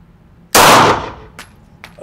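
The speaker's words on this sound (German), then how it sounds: "Das schreit mal nach ein paar mehr Schuss." A Walther PPQ M2 pistol fires one loud, sharp close-range shot, its crack decaying over about half a second, followed by faint metallic clicks.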